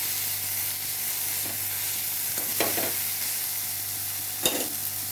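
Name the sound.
stirring cooking food in a pan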